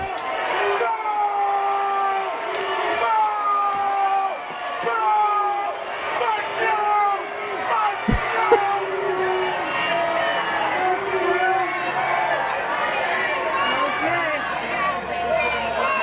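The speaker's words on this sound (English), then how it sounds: "as an entire city block is booing him" A full city block of protesters jeers and boos Paul Ryan, a loud, sustained crowd roar with shouts and whoops rising over constant babble for the whole stretch, one sharp knock near the middle.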